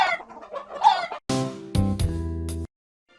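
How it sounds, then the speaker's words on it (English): Hen clucking in a children's counting rhyme, a few short clucks followed by sustained musical tones and a couple of sharp accents, fairly close and clear with no talking. "9, 10, a big fat hen."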